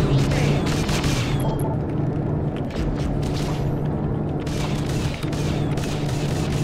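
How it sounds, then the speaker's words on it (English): Video game gunfire, a dense, continuous barrage of loud shots and booms throughout, with a voice heard amid the noise. "Oh, who's shooting me?"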